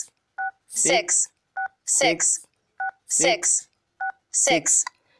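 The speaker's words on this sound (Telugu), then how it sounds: "ఇక్కడ నేను డయల్ చేస్తున్నాను." Four short bursts of phone keypad DTMF tones while a missed-call number is dialed to check a bank balance on an Airtel line, each followed by a longer voice prompt, evenly spaced and clear.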